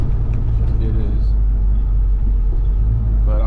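A Chevelle's engine rumbling at idle after starting right up, a deep, steady low-pitched throb close by, with a voice faintly present over it.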